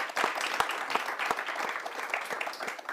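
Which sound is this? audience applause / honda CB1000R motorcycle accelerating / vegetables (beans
audience applause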